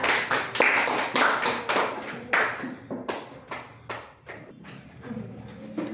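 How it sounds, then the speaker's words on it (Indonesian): A classroom of students claps for a presenting group, a loud burst of hand claps that thins into scattered individual claps and then fades out. "tepuk tangan untuk kelompok berbeda"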